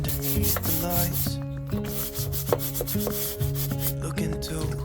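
A cheap hand brush scrubs the corners of a balcony with water, giving a steady, close rubbing and scraping that runs under loud background music with singing.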